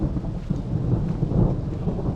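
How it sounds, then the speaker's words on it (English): Deep rolling thunder rumbles steadily at a moderate distance just before rain arrives, a continuous low roar that swells slightly mid-way, with no voices. "I don't know whether you're hearing the thunder. It's almost raining"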